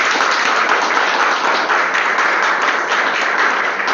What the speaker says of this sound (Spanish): pues un aplauso para mí